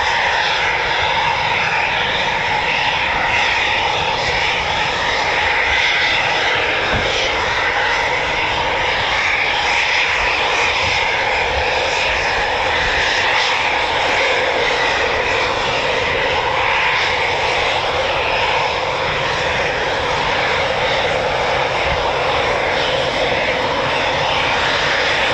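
Eurofighter Typhoon FGR4 jet roaring at RAF Coningsby, a loud, steady, unbroken engine rumble and hiss that holds throughout without a pause.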